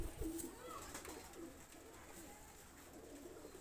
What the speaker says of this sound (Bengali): একটা বেনারস কবুতর নিয়ে আসলাম, পুরাতন ব্লাডের বেনারস কবুতর।